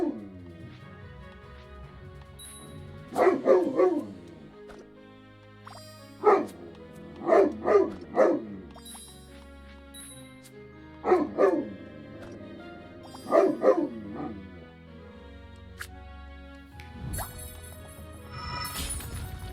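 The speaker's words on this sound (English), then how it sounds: "Puppy? He is such a good boy. But he's so loud." A puppy in the game Battle Chef Brigade barks loudly in short clusters of two or three yips, repeated several times with quiet gaps between, the bursts close and sharp.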